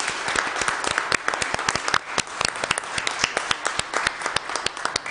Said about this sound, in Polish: I teraz są oklaski.